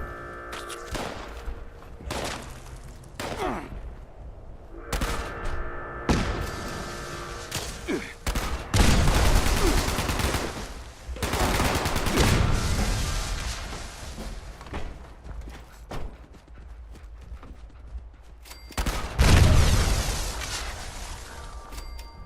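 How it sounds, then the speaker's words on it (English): A minigun in Fallout fires in rapid sustained bursts, dense roaring volleys with heavy thumps, stopping and starting several times over a long stretch, with a brief mechanical whine between bursts. "minigun."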